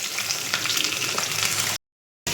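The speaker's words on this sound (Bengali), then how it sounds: "পেঁয়াজটা ভাজা ভাজা হয়ে গেছে, এখন আলুগুলো দিয়ে দিচ্ছি" Potatoes hit a pan of frying onions and sizzle steadily, with a close, hissing fry that cuts out briefly before resuming.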